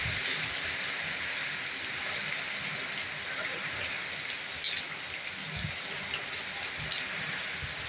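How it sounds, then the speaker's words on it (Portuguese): Steady rain and gusting wind hiss across a country farm, a continuous wash of sound with occasional low buffeting thumps and no voices. "O vento é forte, galera."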